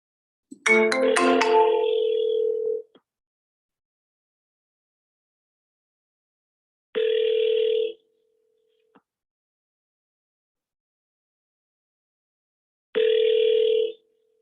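An outgoing telephone call rings on the line, a bright electronic tone sounding three times in evenly spaced bursts with long silent gaps, the first burst cluttered with brief clicks and chirps before it settles into a steady tone.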